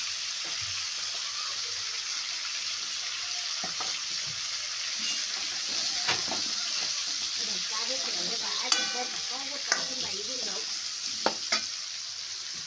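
A drumstick pod curry with crushed peanuts frying and being stirred in a pan, a soft continuous sizzle broken by scraping strokes and a few sharp utensil clinks toward the end.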